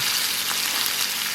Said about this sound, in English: So I have some of my bacon cooking, and I still have 3 more pieces that need to go in.